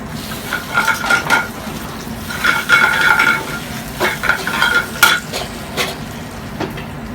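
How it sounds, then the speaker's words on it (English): Spinach sautéing in olive oil with garlic in a pan, with bursts of sizzling and a utensil stirring and scraping in short rhythmic spells, close and fairly loud, with no one talking. "we're going to saute some spinach and olive oil"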